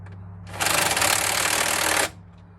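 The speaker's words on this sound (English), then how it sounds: "This Makita tightens things like kind of like mid-range, not like too tight." A Makita power tool runs in one loud buzzing burst of about a second and a half, tightening a fitting on a 2005 Freightliner Sprinter fuel filter, then stops abruptly.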